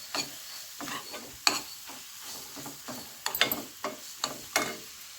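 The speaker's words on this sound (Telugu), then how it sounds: "ఇలా బాగా వేయించుకొని నేను ఈ మిశ్రమాన్ని బూందీలో వేసి కలుపుకుంటానండి." Homemade boondi is stirred together with a freshly fried mixture, giving repeated close scrapes and soft crackling taps at an uneven pace, with no talking.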